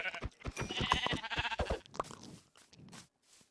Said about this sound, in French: une petite famille de moutons